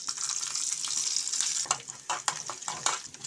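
Mustard seeds and shallots fry in hot oil in a pan on the stove, a steady hissing sizzle with scattered pops and stirring clicks, close and fairly soft.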